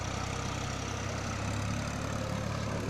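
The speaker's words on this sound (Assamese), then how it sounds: "দেখাই দিছোঁ এখন ট্ৰেক্টৰখন" A large tractor runs steadily in a field, a loud, continuous low engine drone with an even rumble throughout and no voices.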